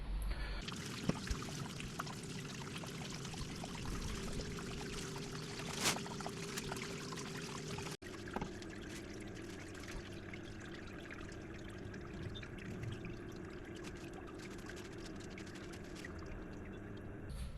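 Water pours and trickles steadily into a planted aquarium tank as it fills, a continuous close splashing hiss with a brief knock partway through.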